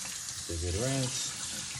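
Tap water runs over beans being rinsed in a sink, a steady broad hiss throughout, briefly overlapped by a short spoken phrase.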